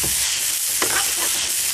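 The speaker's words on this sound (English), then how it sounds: "Then a nice little saute here." Catfish topping of shiitakes, walnuts and green onions sautéing in a pan, a steady close sizzle with stirring scrapes and a brief clatter midway, no voices.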